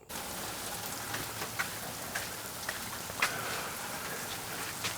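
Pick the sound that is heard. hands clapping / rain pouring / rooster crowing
rain pouring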